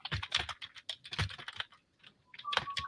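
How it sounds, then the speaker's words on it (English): Rapid, uneven clatter of keys on a computer keyboard being typed on while it is held upside down, with bursts of close taps and a short pause midway, no talking. "Now I'm going to type on my keyboard"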